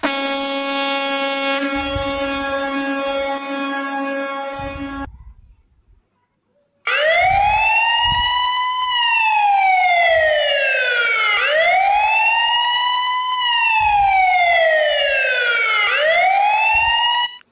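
A horn sample loop from a DJ sample pack, first a long sustained air-horn blast, then after a short gap a repeating siren-like wailing horn cycling up and down, loud and electronic with no talk.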